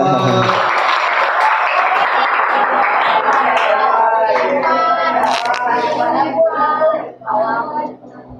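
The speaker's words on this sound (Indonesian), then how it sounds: "Tepuk tangan dong" An audience at a book seminar on mental health gives a spell of applause, heard beneath voices that keep talking throughout.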